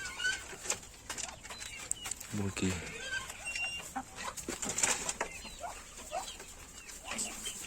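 Chickens cluck in a chicken coop, with scattered calls and a burst of wing flapping partway through. A person talks over them nearby.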